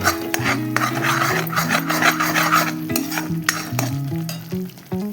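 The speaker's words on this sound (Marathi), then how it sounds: "आपण मोठा गॅस करून ते वाटण परतून घेतलेलं आहे" Coconut masala paste sautéed and stirred in a pan over high heat for a drumstick curry, with steady sizzling frying and scraping stirring strokes close by, no talk.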